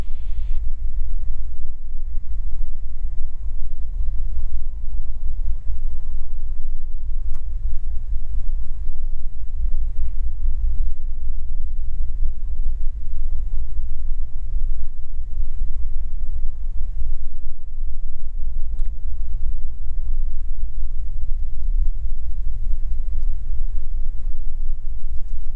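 A Piper Saratoga's piston engine drones steadily while the plane back-taxis on the runway for departure, a loud, constant low rumble heard from inside the cabin with no talk.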